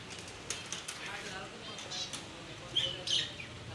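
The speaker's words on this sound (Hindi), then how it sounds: "ये फिंच है, ये फिंच हम लेके आए हैं।" Finches give a few faint, high chirps near the end, over nearby talking and background noise.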